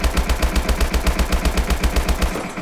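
Rapid automatic fire from the HBRa3 rifle in Call of Duty Advanced Warfare, a steady stream of about twenty evenly spaced punchy shots with no talk.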